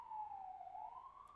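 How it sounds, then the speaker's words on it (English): A wailing emergency siren on a New York street, its pitch sweeping down and back up in a long continuous tone that carries loudly over a low traffic rumble. "This is New York. It's loud. The siren."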